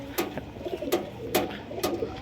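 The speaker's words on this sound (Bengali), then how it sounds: "এগুলো হচ্ছে অরিজিনাল মালবাই পায়রা" Malbahi pigeons coo close by in a quiet yard, four or five soft, throaty coos at a steady, unhurried rhythm.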